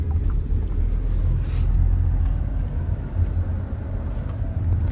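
A car drives along a road, its engine and tyre rumble steady and low throughout with faint wind and road noise inside the cabin.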